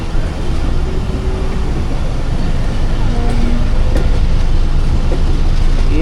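Hazara Express train slowing under the brakes at Malir station, a steady loud rumble of wheels and carriages with faint high squeals drifting in and out over continuous noise.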